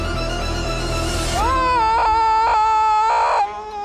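A man's loud, sustained scream from a film excerpt rises out of a dense background and holds in strained, wavering bursts before cutting off abruptly.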